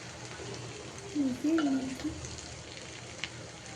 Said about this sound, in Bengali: তো সব কিছু দিয়ে একটু ভেজে নিয়ে এখন একটা ডিম দিয়ে দিলাম। তো ডিমটা দেওয়ার পর ভেজে নিব।